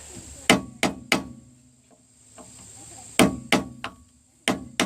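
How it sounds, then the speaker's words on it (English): Hammer peening over the rear wheel bearing nut on a 2002 Nissan Maxima, two bursts of three to four sharp metallic strikes each, close and loud, separated by a short quiet pause. "So now we're going to basically peen this over a little bit again."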